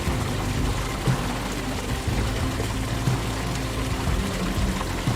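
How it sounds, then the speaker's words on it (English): Flash flood water surging through a dry wash and slot canyon after a monsoon thunderstorm, a steady, dense roar of rushing water that holds constant throughout with no voices. "powerful thunderstorms unleash flash floods that surge through the dry washes and slot canyons"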